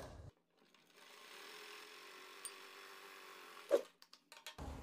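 Sewing machine stitching the edge of a kurti collar: a faint, steady mechanical whir running for about three seconds, then a sharp click and a few soft handling knocks in a quiet room.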